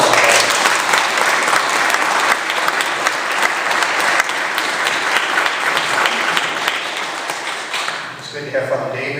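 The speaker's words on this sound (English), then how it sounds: "How about a nice round of applause?" A full round of applause from a church audience at a 25th anniversary celebration, dense and steady clapping that fades slightly toward the end as a voice begins speaking.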